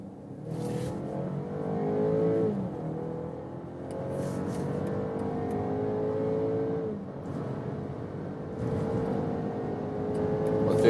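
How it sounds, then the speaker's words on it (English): SUV in sport mode accelerating hard on the German Autobahn, a steady engine roar with rising tones that drop back at each gearshift, road and wind noise underneath, no voices. "I'm driving at high speed on the German Autobahn."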